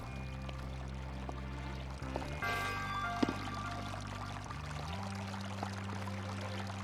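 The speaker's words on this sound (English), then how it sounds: "And now we can see where the sound of the water was coming from." Water flows and pours steadily inside a shrine in the video game The Legend of Zelda: Breath of the Wild, a faint continuous wash beneath layered low game ambience that shifts midway, with no talking.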